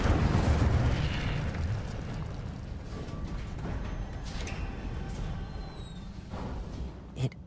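Incendio fire spell cast in Hogwarts Legacy: a loud burst of roaring, rumbling flame up front that gradually trails off into a crackling fiery wash, with a faint sharp pop near the end.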